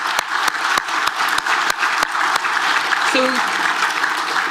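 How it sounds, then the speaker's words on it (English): Applause at a farming conference awards presentation, sharp individual claps in a steady rhythm over a broad crowd wash, with a brief spoken word and a short tonal sound near the end. "So a big round of applause."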